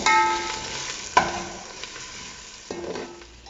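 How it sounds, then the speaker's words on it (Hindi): Ginger garlic paste frying with onions in a pan, a soft steady sizzle broken by a couple of sharp stirring scrapes. "अदरक लहसुन को इतना भूनना है कि इसका कच्चापन ख़त्म हो जाए।"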